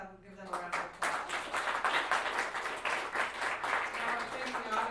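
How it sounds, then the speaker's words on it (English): Audience at a San Francisco customer success meetup applauds the speakers, a moderate wash of clapping that follows a brief voice at the start and holds steady to the end, slightly distant in a room. "Let's give them a round of applause."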